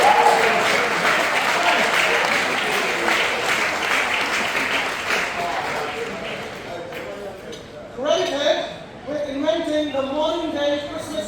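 Audience applause and cheering for France at a commencement dinner, steady clapping that thins out after several seconds as a voice begins speaking over the tail end.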